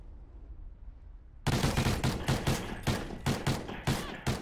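Video game gunfire breaks out after a second of quiet: rapid loud bursts of shots in uneven clusters, each crack sharp and close, with no talk over it.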